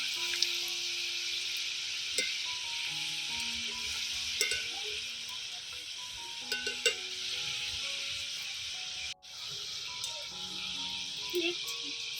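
Bread pieces frying in oil give a steady close sizzle and bubbling hiss, broken by soft clinks and scrapes of a utensil and a brief near-silent gap before the frying sound resumes.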